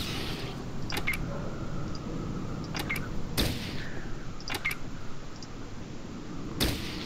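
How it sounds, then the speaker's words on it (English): Sharp single shots fired at a Red Scorpion in Fallout Tactics, a handful of distinct cracks spaced irregularly over a steady low ambient bed, with no talking. "let's shoot the Red Scorpion"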